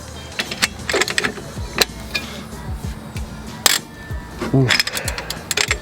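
A wrench works on a Subaru STI or WRX, producing a series of quick metallic ratcheting clicks and clanks, close and irregular, with a person briefly vocalizing.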